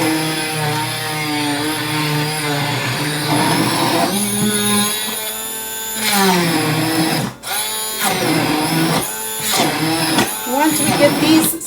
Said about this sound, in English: We're going to smush these as much as we can with the immersion blender